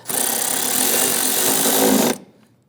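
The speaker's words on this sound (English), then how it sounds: "I'll go ahead and tighten down this bolt" A power tool runs in one loud, continuous burst of about two seconds and then cuts off sharply, tightening a bolt on the lower intake manifold of a 2011-2021 Jeep Grand Cherokee 3.6L V6.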